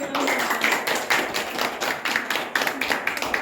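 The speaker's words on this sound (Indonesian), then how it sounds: "Tepuk tangan dulu." Classroom students clap together as a group in a bright, close burst of many hands, steady and rapid for a few seconds, with no voices over it.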